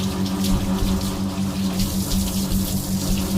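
Water is poured over a dog's head while rinsing it during grooming, giving a steady, close splashing gush that runs continuously for a few seconds with no talking.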